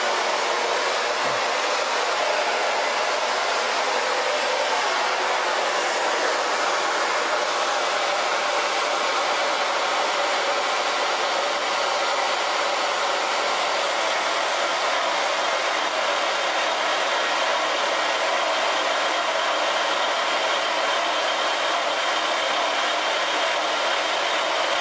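A Makita 2107FK portable band saw runs continuously while cutting steel, giving a loud, steady, dense whirring drone that holds unbroken from start to finish, close by, with no talking.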